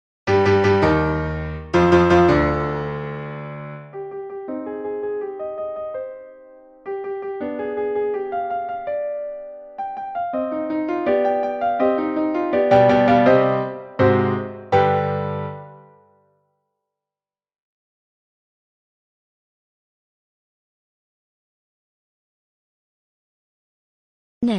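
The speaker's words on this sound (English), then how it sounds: "Let's listen to Beethoven's Symphony No. 5" Beethoven's Symphony No. 5 in a recording: forceful opening chords give way to a softer, flowing orchestral passage, then swell again before fading into about eight seconds of silence.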